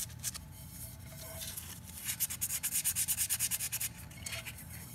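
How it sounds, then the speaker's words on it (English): A thick, glittery epoxy coat on a cup is sanded by hand, giving a close, steady scratchy rub that turns into a quick run of rhythmic back-and-forth strokes in the middle. "All right, now we've got our cup sanded."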